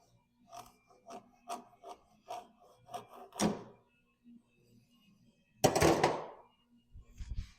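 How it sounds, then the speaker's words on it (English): A knife slices through a part of a fatbike grooming sled in a run of short, rhythmic rasping strokes, followed by a louder, longer scrape near the end. "As long as you just kind of let the knife do its work, you should get a nice straight cut out of it"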